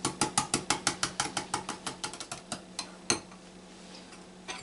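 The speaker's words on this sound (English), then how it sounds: "And you just whisk it all together." Whisk rapidly clattering against a bowl while horseradish sauce with ground black pepper and Worcestershire sauce is mixed, a steady run of quick metallic ticks that slows and stops, then a single louder clink.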